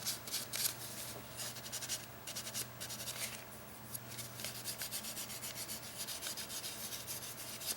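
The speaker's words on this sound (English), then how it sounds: "I'm going to do this very feather light sanding again." A nail file makes light, rapid sanding strokes on painted press-on acrylic nails, a soft close scratchy rubbing in a steady back-and-forth rhythm with a faint hum underneath.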